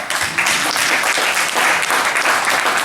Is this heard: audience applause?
yes